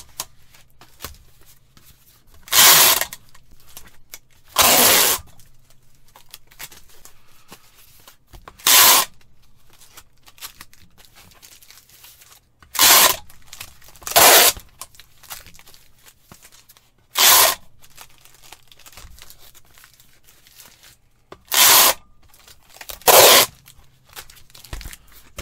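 Packing tape pulled in loud, rasping screeches from a hand tape dispenser while sealing a shipping package, about nine separate pulls spaced a few seconds apart, close and prominent, with quiet handling between strokes.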